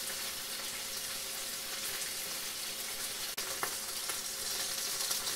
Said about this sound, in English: Frying them until the skin really crisp up.